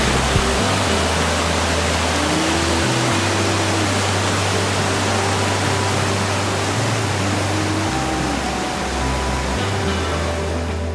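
Water rushing continuously in Luxembourg, a loud, broad, steady hiss with low tones and muffled murmurs faintly underneath.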